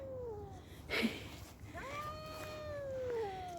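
A cat meows several times outdoors during a walk, with drawn-out, rising and falling cries close by and no talking.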